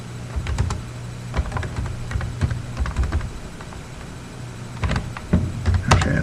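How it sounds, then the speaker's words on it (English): Rapid, uneven clicking of keys on a computer keyboard as someone types slowly, close and fairly clear over a low steady hum, with short pauses between bursts. "I just type slow."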